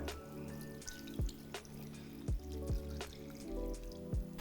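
Water poured from a glass into a cooking pot in a home kitchen, making splashing drips and trickles with a few sharper plops, close and fairly quiet, with no voices.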